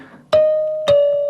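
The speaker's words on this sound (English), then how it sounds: "I use a westernized version of a kalimba or an Embera thumb piano." Westernized kalimba thumb piano, two bright plucked tines a little over half a second apart, each ringing on with a long steady sustain, close and clear with no voices.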